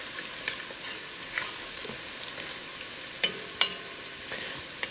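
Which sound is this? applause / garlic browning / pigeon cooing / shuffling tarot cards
garlic browning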